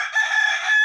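A Kadaknath and Murkatti crossbreed chicken lets out a short, loud crowing call, heard close and alone.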